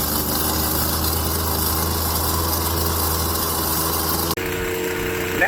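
Husqvarna 329L straight shaft string trimmer warming up at idle, a steady, loud, close two-stroke drone with constant rumble that dips abruptly near the end, then settles back.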